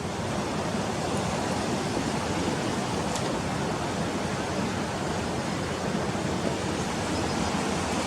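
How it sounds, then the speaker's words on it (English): Whitewater river rapids at Selkirk, where the water splits around a midstream island, roar steadily and evenly, a broad constant churn, with no voices and no change in intensity. "there's your whitewater rapids coming down"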